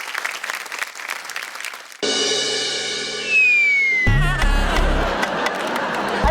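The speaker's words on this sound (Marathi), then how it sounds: "एकदा जोरदार टाळ्या झाल्या पाहिजे" Studio audience at a Marathi television game show breaking into loud applause, beginning as scattered clapping and then mixed with a burst of music and sound effects, dense and sustained.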